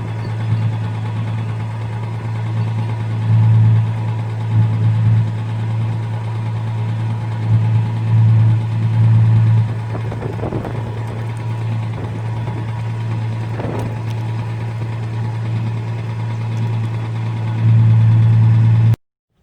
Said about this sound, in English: Okay, I'm gonna let that warm up,